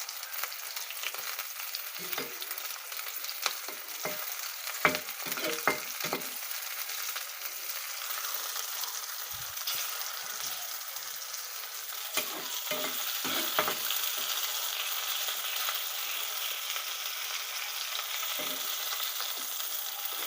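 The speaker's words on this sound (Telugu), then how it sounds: "ఇందులో మినపప్పు గట్టేయాలి" Urad dal fries in oil for a tempering for an elakai pachadi, a constant bright sizzle with repeated scrapes and clicks of a spatula stirring in the pan.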